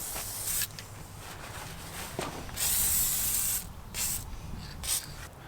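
Short hissing bursts of spray lubricant applied to planter chains, several quiet spurts of varying length over a soft, low background.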